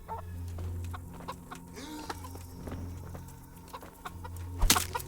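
Chickens clucking around a coop in the medieval game Kingdom Come: Deliverance, several soft cackles and clucks over a low ambient hum, with a sharp thud near the end.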